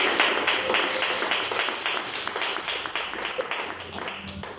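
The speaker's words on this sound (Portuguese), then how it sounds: "Aplauda Deus por isso." A church congregation claps during a sermon, a dense patter of many hands applauding steadily and fairly close for several seconds.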